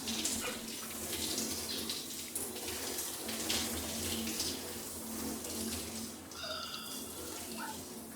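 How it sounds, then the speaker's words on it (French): Shower running in the Farming Simulator 25 video game: a soft, steady hiss of falling water that continues for several seconds, fairly quiet and alone, with a few faint clinks near the end. "je vais prendre une petite douche, on ferme la porte pour éviter le courant d'air"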